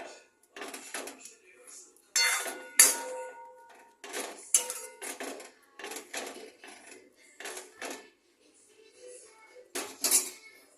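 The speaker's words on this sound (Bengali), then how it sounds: "আরও একদম এটাকে ম্যাশ করে দেবো পুরো।" Cooked mustard greens being mashed in a pot, repeated scraping and clinking strokes of a utensil against metal in irregular bursts, fairly close and moderately loud.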